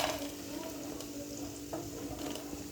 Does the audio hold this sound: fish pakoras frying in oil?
yes